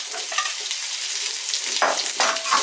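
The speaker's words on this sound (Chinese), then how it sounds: "一起煸炒一下。" Scallion, ginger and garlic stir-fried with meat in a hot wok, a steady loud sizzle with scraping spatula strokes breaking through near the end.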